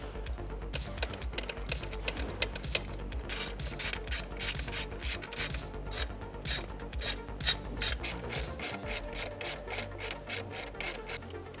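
Ratchet wrench backing 12mm bolts off the top-mount intercooler and throttle body of a 2022 Subaru WRX, a steady run of rapid clicking pawl strokes close up, continuous and fairly loud with no talking.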